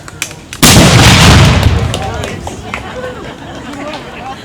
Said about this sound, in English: Prepare to fire. Fire!